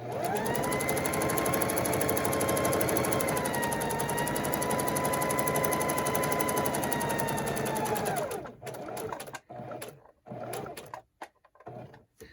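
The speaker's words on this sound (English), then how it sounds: "I'm going to do 1 more stitch" A sewing machine runs steadily for about eight seconds as it stitches the edge of a Christmas table runner, a continuous close motor whir with a constant pitch, then stops and leaves brief scattered handling sounds.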